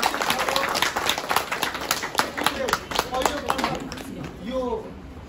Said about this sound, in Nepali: एकपल्ट आफूले आफैलाई ठुलो ताली बजाइदिनुहोस्